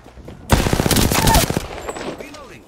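Loud burst of rapid automatic gunfire from the Apex Legends video game, a dense fusillade of shots lasting about a second before trailing off into game ambience.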